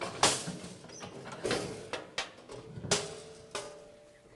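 Metal clanks and knocks from a cattle handling chute as its brisket bar pin is pulled, several sharp separate impacts and rattles spaced over a few seconds, close by.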